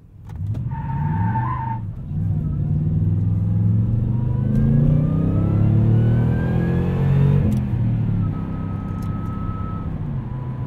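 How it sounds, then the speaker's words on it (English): A 2020 Toyota Tundra TRD Pro in four-wheel drive accelerates hard on a damp road. Its engine note climbs loudly from inside the cabin while rising tire squeal whines over it. "You heard that tire squeal back there?"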